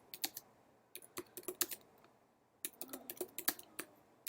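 Bursts of quick keyboard typing, close and crisp, in two clustered runs separated by a short pause, with no voice over the keys.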